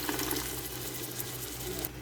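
Water splashes and trickles steadily into a pot of spiced potato and peas pulao, a soft continuous pour at close range with a faint background hum.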